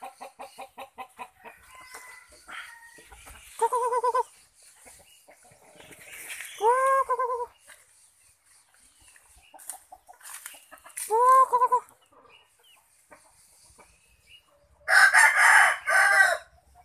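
Young chickens cluck in soft, scattered calls while a rooster crows several times, loud and close, each crow a rising-and-falling cry standing out from the quieter clucking.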